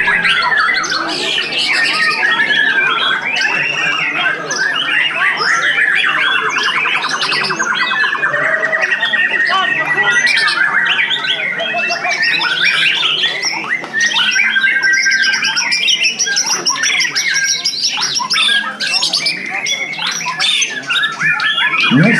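White-rumped shama (murai batu) singing at a songbird contest in Java, a loud, close, dense stream of varied squawks, chirps and whistles going on continuously with crowd and other birds behind.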